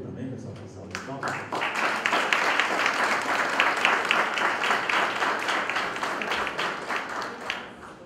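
A church congregation breaks into a sustained round of applause to welcome a man coming up to give the weekly announcements. A voice is heard briefly at the start, then dense, even clapping fills the room steadily.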